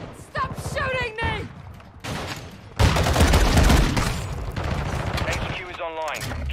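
Heavy automatic gunfire from a Modern Warfare 2 multiplayer match with akimbo .50 Desert Eagles erupts midway and keeps up as a dense, loud barrage, with a voice talking at the start and end.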